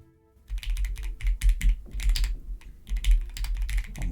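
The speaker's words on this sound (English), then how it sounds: "my god, it's so awkward typing." Fingers type quickly on a computer keyboard nearby, bursts of sharp clicking keystrokes in uneven runs with short pauses between them, loud and alone.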